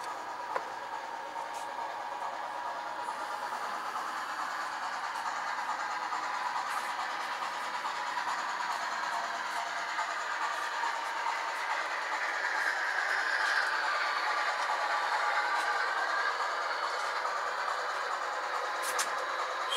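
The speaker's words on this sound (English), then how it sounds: "Steam engine close by, possibly the eastbound coal drag with the Reading T1" An HO scale model railroad steam engine, a Reading T1, hauls an eastbound coal drag close by with a steady mechanical rumble and hum that builds slightly midway.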